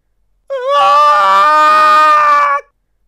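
A boy's terrified scream in a dramatized reading of a shipboard suspense story, one long loud wailing cry lasting about two seconds, starting and stopping abruptly out of silence.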